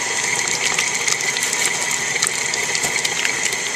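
An electric mixer beats softened fat with sugar for pound cake, giving a steady, loud whirring drone with a faint rattling texture that runs without a break, and no voices are heard.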